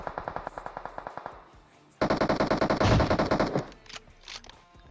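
Gunfire in the mobile battle royale game PUBG Mobile, a rapid automatic burst followed by a pause, then a louder, denser burst of sustained firing that tails off, no talk.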